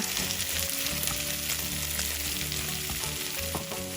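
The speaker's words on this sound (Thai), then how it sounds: "ค่อยๆผัดส่วนผสมทั้งหมดให้เข้ากันค่ะ" Egg and zucchini stir-fry in a pan with a steady, dense sizzle and light scraping of a spatula, heard up close for a few seconds without any talking.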